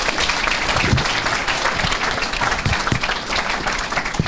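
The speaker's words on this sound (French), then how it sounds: "ça mérite comme les applaudissements" Audience applause at a university conference hall on mining contracts, a loud, continuous crowd clapping with uneven sharp claps standing out throughout.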